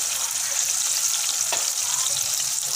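A spoonful of cumin seeds sizzling in hot oil, with ginger-garlic paste, onion and tomato in the pan for daal mash, a loud, dense, continuous hiss with one brief clink midway.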